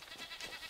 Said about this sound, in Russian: Это же козочки!